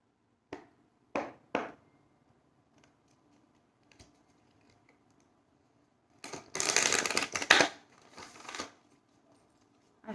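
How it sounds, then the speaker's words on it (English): A few quick oracle card riffles, then a longer burst of cards being shuffled and slapped together up close, with quiet pauses between. "I have messed up a shuffle somewhere."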